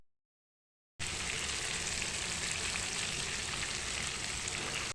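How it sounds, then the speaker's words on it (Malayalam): Masala-coated fish fries in a pan with a steady, loud sizzle and crackle that fills the frame after a second of silence, no voices. "മീൻ പൊരിക്കുന്നത് കണ്ടില്ലേ, നല്ലോണം മസാല ഒക്കെ പറ്റേക്ക്"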